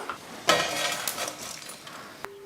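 Roasted spices for a mutton kulambu are scraped and tipped from a pan into another vessel, with a sharp metallic knock, a few clinks and scrapes of cookware, close and moderately quiet, then a faint steady tone at the end.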